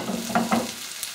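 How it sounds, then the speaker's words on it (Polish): Softened onion, chili and sliced yellow and red bell peppers fry in a pan with a low, steady sizzle and a couple of quick stirring sounds. "Będę podsmażała do momentu, jak papryka lekko zmięknie"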